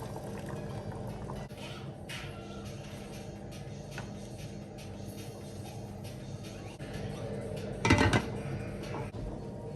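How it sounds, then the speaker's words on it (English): Pepper sauce frying in oil in a pot, giving a steady low bubbling and simmering with a brief louder clatter near the end. "I'll allow this to fry for the next 5 minutes."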